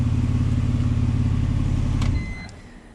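A BMW 330i engine idles with a steady low drone, then shuts off abruptly, leaving a faint fading mechanical whir from the still-rotating transmission and a couple of small clicks.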